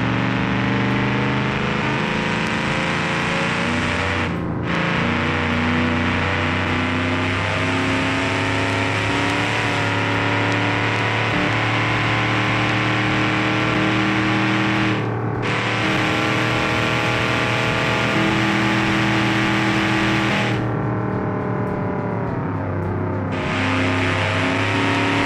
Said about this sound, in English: The Gila, this thing has a turbocharged engine.